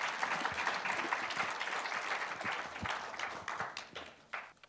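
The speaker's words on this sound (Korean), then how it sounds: "여러분 큰 박수로 환영해 주시기 바랍니다" Applause from an audience at an international academic forum welcoming a panel of professors onto a stage, steady dense clapping throughout that thins out toward the end.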